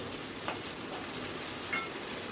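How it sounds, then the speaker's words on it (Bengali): Gathi kochu (taro) pieces fry in hot oil as they are stirred: a steady, dense sizzle with two brief scraping clicks from the stirring, close and continuous with no talking. "দিয়ে গাঁটি কচুগুলোকে আবার একটু নাড়াচাড়া করে নেব।"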